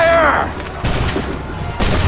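Musket volley fire in the video game Assassin's Creed III: a sharp crackling burst of many shots at once, followed by two more heavy booming reports within a couple of seconds, with a brief shouted voice at the start.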